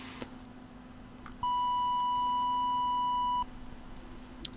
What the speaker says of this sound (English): quite annoying beep, but this is a screen to test whether your FPGA SID is installed properly and it's working fine